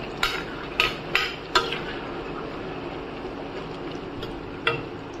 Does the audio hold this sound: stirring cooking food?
yes